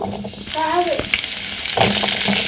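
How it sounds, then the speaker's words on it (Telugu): Garlic sizzles and crackles steadily in hot oil, close by, with a brief voice near the start. "కలర్ చేంజ్ అయ్యే వరకు ఫ్రై చేసుకోవాలి మరీ డార్క్గా కాదు"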